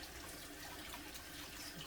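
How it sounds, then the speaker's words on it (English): Hot water running steadily from a kitchen tap into a sink before washing dishes, a continuous soft hiss and splash at low level with no talking. "Let's get some hot water going"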